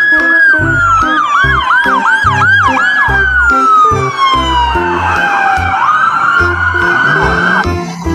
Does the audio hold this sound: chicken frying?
no